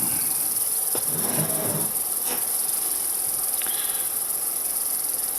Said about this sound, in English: I don't know whether you can actually hear the very high-pitched squeakings of cicadas